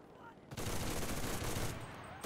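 An M1919A6 machine gun fires a sustained burst in the video game Enlisted, a dense, loud rattle of rapid shots that cuts in abruptly after a quieter lead-in and stops sharply near the end.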